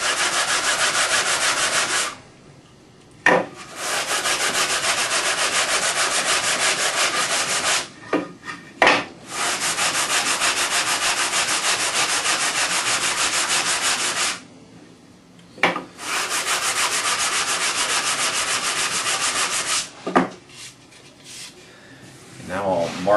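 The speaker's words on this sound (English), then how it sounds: "Sand down the edges a little bit just to take some of the machining marks off." Wooden organ pipe having its edges hand-sanded to remove machining marks, a steady loud rasping rub in long strokes broken by a few short pauses, close up and alone.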